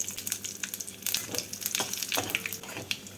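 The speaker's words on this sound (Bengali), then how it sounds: "এই তেলের মধ্যে আমি দিয়ে দেবো ফোড়ন ফোড়নে দিচ্ছি দুটো শুকনো লঙ্কা দুটো তেজপাতা এক টিস্পুন সাদা জিরে" Dried red chillies, bay leaves and cumin seeds crackle and sizzle in hot oil as a tempering for a fish-head and cabbage curry, a steady close spatter with sharp pops, no voices.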